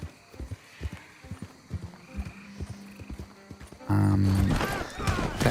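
Horse hooves clop in an uneven rhythm during riding in Red Dead Redemption 2, close and fairly clear, then a sudden loud burst of game noise overwhelms them; game voices and someone talking run throughout.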